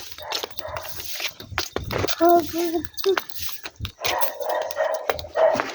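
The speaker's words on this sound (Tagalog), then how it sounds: "May aso dyan." A dog barks and yips in repeated short bursts close by at a home, mixed with brief whimpering, while people talk around it.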